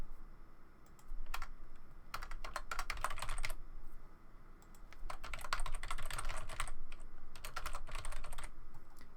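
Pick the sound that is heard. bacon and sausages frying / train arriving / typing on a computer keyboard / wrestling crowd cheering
typing on a computer keyboard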